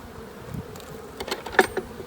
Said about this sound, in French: On voit bien que les abeilles passent à travers